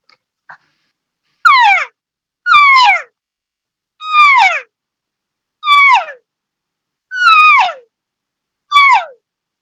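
Six drawn-out, descending nasal calls from a human voice imitating an old elk cow, spaced about a second apart, loud and close with silence between.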